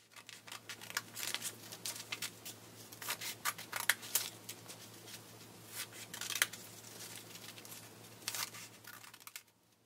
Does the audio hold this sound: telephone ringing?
no